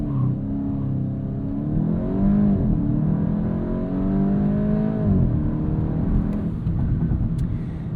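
A 2026 Volkswagen Golf GTI S, the base Mk8.5 hot hatch, does a launch-control start: the engine revs and pulls hard through the gears, loud and close, with rising and falling tones and a shift dip midway.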